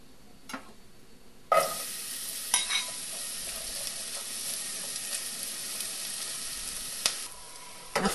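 One diced onion in two tablespoons of hot oil, a sudden loud sizzle as it hits the pan, then a steady close frying hiss with a few stirring clacks and knocks.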